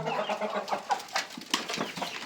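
Several chickens cluck and chatter together at close range, a busy overlapping stream of short calls.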